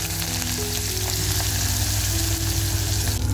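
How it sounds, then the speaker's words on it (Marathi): Sliced onion frying in hot oil with whole cardamom and spices for a palak mutton curry, a steady, close, loud sizzle and crackle with faint stirring and no talk. "कांदा आपल्याला असा मस्त फ्राय करून घ्यायचा आहे"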